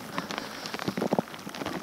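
Rain patters steadily on a hard surface, with close, irregular drops tapping loudly over a continuous wash.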